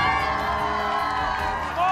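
A crowd cheers and whoops during a food-eating challenge of pie and ice cream, a loud, continuous roar of mixed voices with shouts rising near the end.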